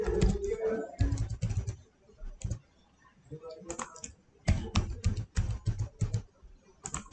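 Student login credentials being typed on a computer keyboard for a school web portal, with close, rapid clusters of key clicks in bursts separated by short pauses.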